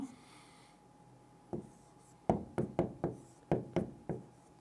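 Chalk or marker strokes on a board during a tajweed lesson, a quiet stretch followed by a brisk series of sharp taps and short scratchy strokes in uneven rhythm, close and clear, with no talking.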